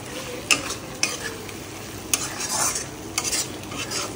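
Chopped tomato being sautéed in masala for Bengali tel koi, a soft continuous sizzle with a few sharp scraping stirs of a spatula against the pan, close and unaccompanied by talk.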